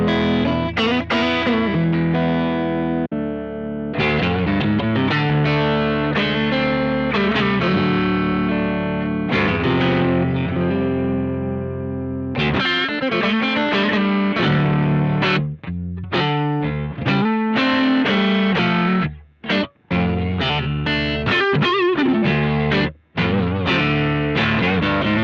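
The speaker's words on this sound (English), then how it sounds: "I'm gonna play clean first, so you get the feel of it, and then I'm gonna click the pedal and it's gonna drop down." Electric guitar played first with a clean tone, then switched by a MIDI-controlled pedal preset to a lower, pitch-dropped sound, with processed chords and notes ringing loud and continuous, broken by brief gaps near the end.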